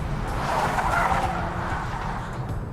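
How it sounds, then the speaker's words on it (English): Tires on a Hyundai Genesis Coupe squeal loudly as the car drifts around a corner, a sustained screech over engine roar lasting a few seconds, with no talking. "the minute that you're drifting around a corner at about 60 miles an hour"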